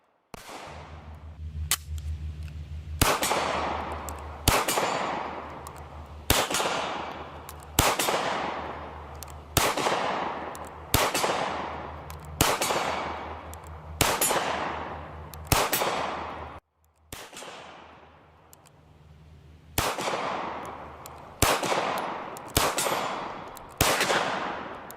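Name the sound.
Steyr M9-A1 pistol firing in video game Warface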